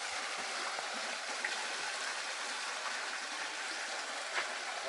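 Cold mountain stream flowing steadily in a cold-pole region of Yakutia, a broad, even rush of water close by with no voices.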